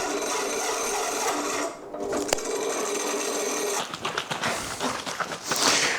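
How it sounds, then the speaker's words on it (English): A 72mm hole saw cuts through an old French oak floorboard, giving a close, continuous rasping whine from the drill that holds steady, then turns choppy and uneven as the cut nears completion. "trying to get through this 20-year-old French oak floorboard with this 72mm or nearly 3-inch hole saw"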